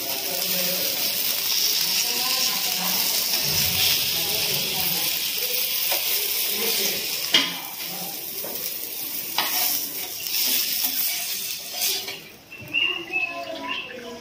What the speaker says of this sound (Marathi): मस्तपैकी खरपूस भाजली आहेत बघा.